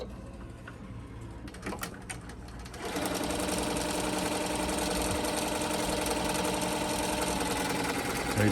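An embroidery machine stitching an appliqué runs close and steady, a rapid mechanical chatter that starts after a few quieter clicks and continues evenly at a constant level.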